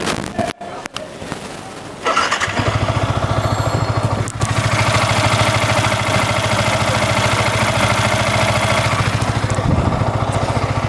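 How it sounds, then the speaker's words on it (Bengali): A freshly serviced V3 motorcycle engine idles steadily with an even, rapid mechanical pulse, starting after a short rustle and running loud and close for several seconds, with a brief rev near the end. "আপনারা এই বাইকের এখন জাস্ট একটু সাউন্ডটা দেখাবো"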